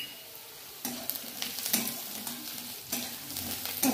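Onion and peanuts sauté in a hot pan, giving a soft sizzle broken by repeated scraping stir strokes of a spatula against the pan, close and moderately quiet, with no talking.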